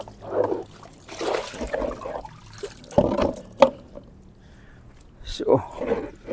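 Water splashes and trickles as clothes are rinsed by hand, in short sloshing bursts between pauses while a person talks over it.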